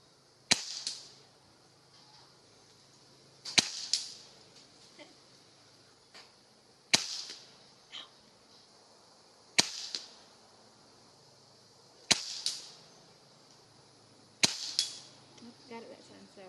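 Springfield Armory M1A Under Lever .22 pellet rifle firing six sharp snapping shots spaced a few seconds apart, each a crisp crack with a short trailing ring, interleaved with faint cocking sounds.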